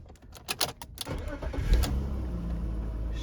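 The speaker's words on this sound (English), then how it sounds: "Starts the car." A car starts with a newly programmed X-Horse remote key: a few clicks and a short crank, then the engine catches and settles into a steady, close idle.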